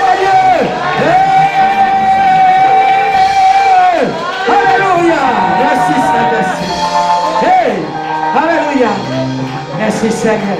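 A church congregation at a French-language worship service shouts and whoops with joyful cries of victory. The loud crowd voices rise and fall together, blended with singing-like yells and a preacher's voice.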